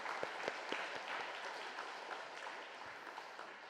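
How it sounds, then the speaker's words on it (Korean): Steady applause from a church congregation during an anniversary worship service, broadband and continuous throughout, with a few sharper claps standing out near the start. "우리 다 같이 박수로 영광을 올려드리겠습니다"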